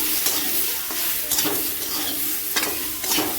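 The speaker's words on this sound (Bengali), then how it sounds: "সব কিছু দিয়ে একসঙ্গে ভালো করে নেড়ে নেব" Ground spices with ginger-garlic paste sizzle and fry in a pan for fish head curry, under steady close stirring with a spoon that scrapes the pan in short, repeated strokes.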